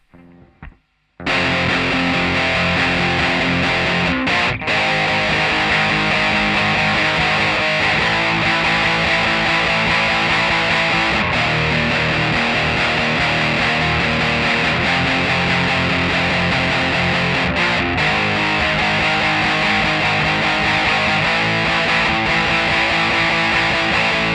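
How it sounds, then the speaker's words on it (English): Loud, heavily distorted electric guitar power chords from the chorus of a song ring out in a sustained, driving riff after a brief quiet start, dense and continuous throughout. "the chorus sounds like this"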